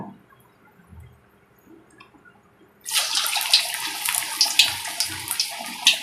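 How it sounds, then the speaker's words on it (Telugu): Corn vadas are dropped into hot oil and start frying, a sudden loud, dense sizzle and crackle that bursts in after a quiet start and keeps bubbling steadily, close up. "చూడండి నూనె వేడైపోయిందండి. ఇప్పుడు మనం వడలు వేసేసుకుందాము."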